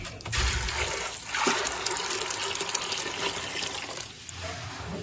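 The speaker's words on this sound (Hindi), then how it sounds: "पानी डाल देते हैं।" Water pours steadily into a pressure cooker pot of white beans and meat, a rushing, splashing sound that shifts slightly as the stream changes.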